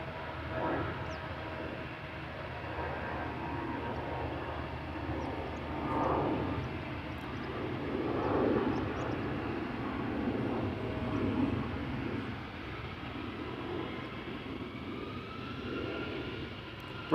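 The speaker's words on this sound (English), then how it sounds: "Embraer 175 going to Gothenburg, KLM flight 1157, 5-year-old airplane" A five-year-old KLM Embraer 175 jet at Amsterdam Schiphol Airport gives off a steady, fairly distant engine rumble and whoosh that swells gently a few times across the stretch.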